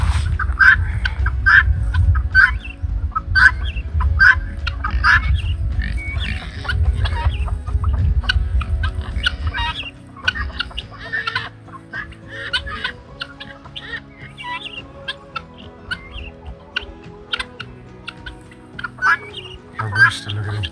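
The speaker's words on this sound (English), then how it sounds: "A rooster, look at him." Newly arrived laying hens and a rooster clucking close by in a backyard coop area, a busy stream of repeated clucks and chirps over a low rumble early on, with a person talking at times.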